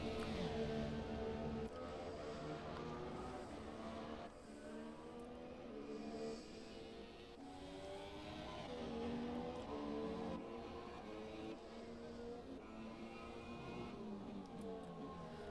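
A Formula 1 car in the 2017 Formula 1 racing video game drives a lap, its high engine note rising and falling through gear changes with smooth pitch sweeps, loud and continuous throughout.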